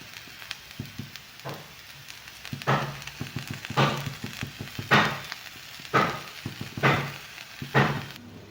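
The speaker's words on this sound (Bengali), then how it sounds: "কড়াইটা ধরে ভালো করে নাড়িয়ে নিয়েছি" Food frying in a kadai (wok) and being stirred, with repeated scraping strokes about once a second over a steady background sizzle, close and moderately loud, no talking.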